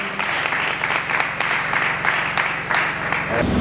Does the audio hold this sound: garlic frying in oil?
no